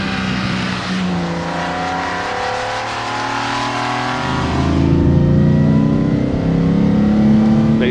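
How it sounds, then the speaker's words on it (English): A 1955 Mercedes-Benz 300SL's 3.0-litre inline-six drones steadily with a gritty, whining note from its four-speed straight-cut gearbox, rising in pitch as it accelerates, loud and close. "The transmission is a 4-speed straight cut gearbox, so it creates a tractor-like sound"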